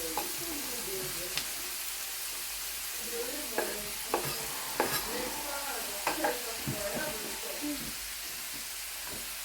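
Butternut squash, sweet potato and carrot frying in a hot pan, a soft steady sizzle with scattered stirring scrapes and clicks of a utensil against the pan.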